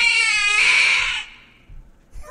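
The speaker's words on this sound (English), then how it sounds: "that was Screaming Cat." A screaming cat sound effect: a loud, piercing, wavering yowl lasting about a second, fading out, followed by faint low rustles and brief bits of voice.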